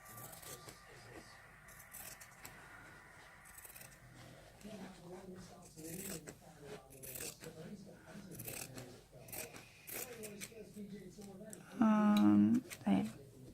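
Wavy-edged scissors snipping through fabric for a handmade Tilda doll, soft crisp cuts and rustles of cloth close by, with people talking quietly over them and a louder burst of handling near the end.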